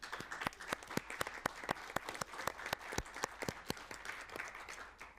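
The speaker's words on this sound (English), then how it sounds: "join me to thank the presenters with a round of applause." An audience claps steadily, a crowd's applause rendered as a dense patter of sharp hand claps, moderately distant and sustained.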